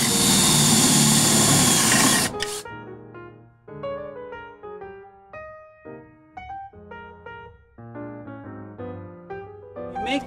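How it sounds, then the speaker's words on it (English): A power drill bores holes into a roof tile during a solar LED lighting install, whirring loudly and steadily for about two seconds before it stops abruptly and gentle music takes over. "So we know where to drill our holes"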